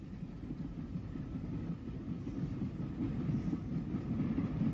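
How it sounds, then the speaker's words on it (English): Isle of Wight Railway locomotive Whitwell, a vintage steam engine of the 1950s–60s, approaching Smallbrook with a Ryde train: a steady low rumble with rhythmic chuffing, constant and moderately loud, no voices. "Whitwell approaches Smallbrook with a RYDE train."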